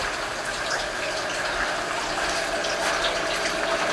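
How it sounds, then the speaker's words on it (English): Steady, continuous rush of water flowing through aquaponic tubes in a greenhouse, with a constant gurgling hiss, unbroken throughout and fairly close. "the water goes down the towers into the tube"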